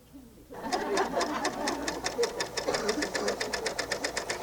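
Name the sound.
Bernina L890 serger stitching with a double fold binder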